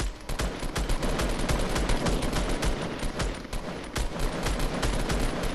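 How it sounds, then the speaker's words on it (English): Dense, rapid gunfire crackles through a squad shooter video game, overlapping bursts and single shots stacking into a continuous loud fusillade with no voices over it. "gunfire down there"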